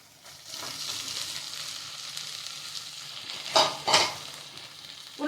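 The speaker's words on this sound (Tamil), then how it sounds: "உருண்டையை எடுத்து போட்டு நல்லா கலந்து விட்டுக்கலாமுங்க." Cabbage Manchurian balls are tipped into a hot pan and stirred. A steady oil sizzle carries a couple of louder scraping, splashing stir strokes near the end.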